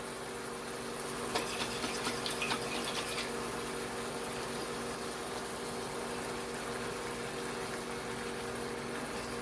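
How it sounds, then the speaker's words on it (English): A little water trickles into a jar of Alfredo sauce, a short, fluttery splash of about two seconds over a steady background hum, with no speech. "I'm going to add a little bit of water in here so I can get all of that sauce out of there."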